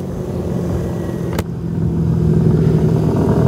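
A Kawasaki Versys X 250 motorcycle pulls away on the road with a loud, sustained engine drone, rising steadily as it accelerates, plus wind roar and a brief click near the start.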